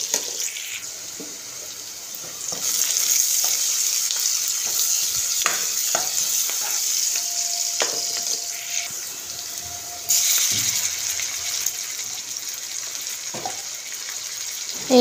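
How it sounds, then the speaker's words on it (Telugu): Sliced onions frying in oil in a pan for egg bhurji, a steady close sizzle with scraping stirs and occasional clinks, the sizzle surging louder at a couple of points. "ఆయిల్లో ఇలా ఉల్లిపాయలు వేసుకున్నాం కదా"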